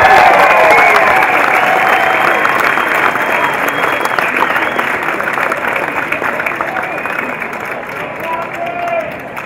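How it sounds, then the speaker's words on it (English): Crowd at a golf celebration beside a pond cheering and applauding loudly, the dense clapping and whoops strong at first and slowly tapering off, with scattered chatter underneath. "Give them a round of applause."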